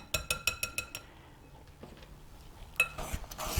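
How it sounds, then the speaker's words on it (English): A fork clinks rapidly against a bowl while mixing strawberry bread batter: a quick run of about six bright taps, a short pause, then another burst of clinking and scraping, close and crisp. "I'm going to take my fork"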